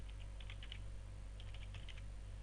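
Typing on a computer keyboard, two quick clusters of light, close key taps separated by a short pause, faint over a steady low electrical hum.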